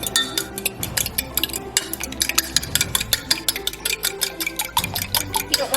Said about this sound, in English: I'm gonna grab a fork and whisk this all up together.